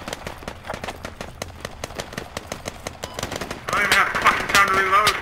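Rapid bursts of automatic gunfire crackle through a 72-player Squad firefight on Jensen's Range, repeated shots stacking into a louder, denser volley near the end with faint voices underneath.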